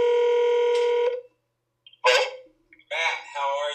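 A telephone dial or ring tone holds steady for about a second, then after a short silence come bursts of line noise and garbled electronic sounds as a call connects.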